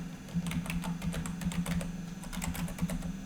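Slow computer keyboard typing, individual keystrokes spaced unevenly and close, over a steady low hum from a running computer game.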